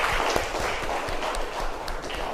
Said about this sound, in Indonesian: Ya, tepuk tangan untuk Askal Karim.